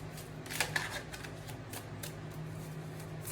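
Oracle cards shuffled during a card reading, a dry papery riffle with a couple of sharper snaps early on, close and fairly quiet over steady low room hum.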